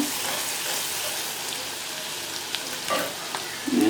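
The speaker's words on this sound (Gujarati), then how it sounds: "આપણી ઓનિયન એકદમ સરસ મજાની શંતળાઈ રહી છે" Onions sautéing in a pan for a bottle gourd curry, giving a steady broadband sizzle with a few soft stirring clicks and louder bursts near the end, no voices.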